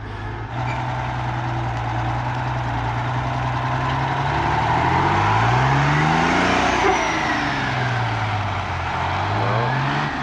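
Day cab truck engine droning loud and close as gears are shifted, the engine pitch rising and falling through each change with no talk over it.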